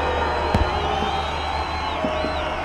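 A crowd roars and cheers continuously during the Montreal Forum celebration of the Stanley Cup win, a steady dense wash of voices with occasional whoops and shouts rising above it.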